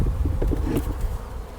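Honeybees hum in a dense, steady drone close by as a hive frame is lifted and handled, the buzzing swelling briefly and then easing slightly.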